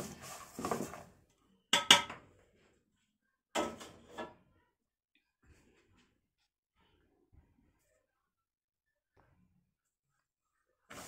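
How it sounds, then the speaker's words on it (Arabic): Peanuts and sesame seeds tossed in a dry pan while making homemade tahini, three short bursts of rattling, scraping stirs, followed by near silence with a couple of faint taps. "هنقلب السوداني مع السمسم شويه برده لحد ما السوداني يطلع الرطوبه اللي فيه"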